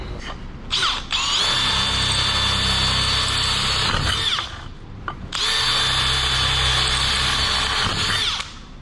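Power drill boring holes into metal in preparation for welding, two long loud whirring runs separated by a short pause, close by.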